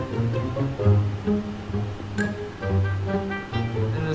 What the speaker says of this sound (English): the sound you're hearing in the background is the